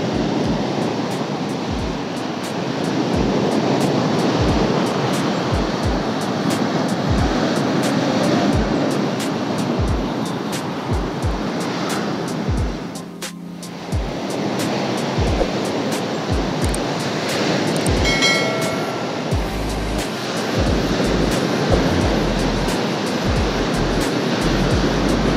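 Ocean waves crash at Dinahican Beach in Infanta, Quezon, a loud, continuous surf roar with rushing water and gusts of wind buffeting the microphone throughout.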